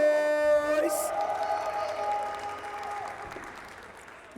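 An esports crowd at a Tekken 7 Nations Cup event cheers and applauds loudly in a large hall, the roar swelling at first and then slowly tapering off as the clapping continues.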